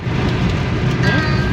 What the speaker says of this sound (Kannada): ಇಲ್ಲಿ ಜೋರ್ ಐತಿ ಮಳೆ